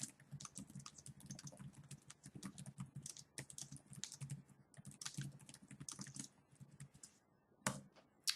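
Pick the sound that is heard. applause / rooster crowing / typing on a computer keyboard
typing on a computer keyboard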